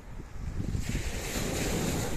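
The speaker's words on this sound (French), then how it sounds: "On a juste le ressac de la mer, c'est très agréable," Sea surf rushes steadily on an empty beach, a broad continuous wash of breaking waves mixed with gusting wind buffeting the microphone.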